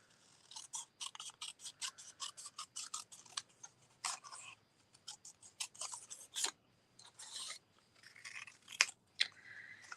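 Scissors snipping through cardstock for card making, a rapid run of close, crisp cuts with short pauses between bursts, quiet background and no talking.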